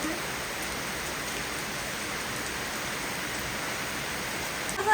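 Dense, steady hiss of heavy rain falling, loud and unbroken from start to finish.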